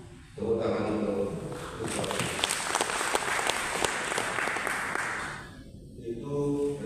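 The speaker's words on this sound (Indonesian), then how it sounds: "Tepuk tangan untuk" Audience applause rises sharply and fills about five seconds at a talk on the Jember Creative Center, a dense crowd clapping that fades away before a speaking voice returns.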